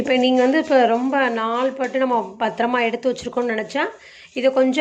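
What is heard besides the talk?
No everyday noise stands out behind the speech.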